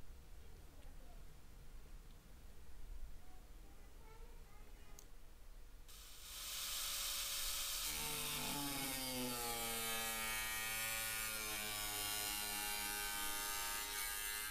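A power tool cutting a new acrylic bathtub liner to size: after quiet background noise, a loud, steady high whine with a shifting, rasping tone takes over and runs continuously to the end.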